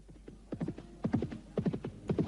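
Horse hooves clip-clop at a steady walking rhythm in a radio drama sound effect, close and moderately loud, repeating in paired beats over a low hum with no talking.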